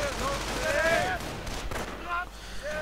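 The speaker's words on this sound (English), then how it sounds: "Sniper opening up on the engineers." Sniper rifle fire and battle noise in a World War II real-time strategy game, loud and continuous, with sharp reports over a dense rumbling wash of combat effects.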